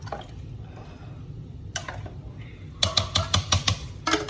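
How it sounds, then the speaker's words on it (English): Sausages for a chicken and sausage gumbo go into a pot with faint sizzling, then a quick series of sharp sputtering pops and spatters near the end. "I added my sausages to my pot."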